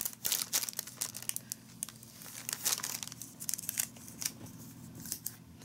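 Scotch tape being peeled and pulled off gift packaging during a Christmas tag swap unboxing: close, quiet crinkling and snipping with irregular rustles and small tearing bursts, no talk.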